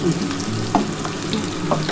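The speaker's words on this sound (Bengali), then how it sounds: "পেঁয়াজটা আধ ভাজা করবো করে আমি চিকেনটা দিয়ে দেবো" Onion frying in a pan for a chicken dish crackles with a close, steady sizzle, punctuated by a few quick stirring scrapes.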